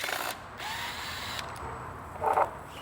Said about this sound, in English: It makes the job a lot quicker if you have a power driver to remove them.